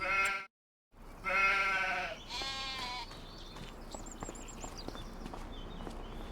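Several sheep bleat loudly and close by in Farming Simulator 25, wavering calls overlapping in quick succession, followed by fainter distant bleats and light footsteps over a steady outdoor ambience.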